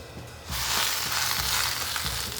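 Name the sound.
spinach searing in a dry pan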